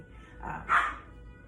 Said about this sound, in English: My dog is in there playing with her toys.